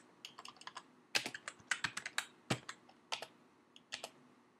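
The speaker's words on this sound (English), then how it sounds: "you just start typing information or put text into it, it's just a matter of typing" Keys clattering on a Mac computer keyboard while typing a document in Word 2011, a close series of quick taps in uneven bursts with short pauses between them.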